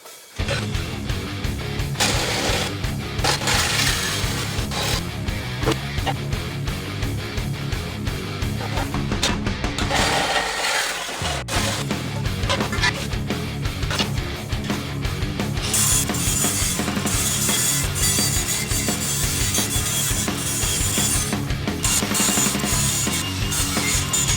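A section of pickup truck exhaust pipe being cut off, with a continuous harsh rasping grind held for the whole stretch, loud and close, briefly dipping midway before resuming.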